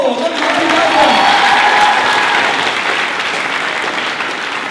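Steady audience applause fills a hall during a school staff revue, loud and continuous from start to finish with a faint whistle-like tone and murmur of voices beneath.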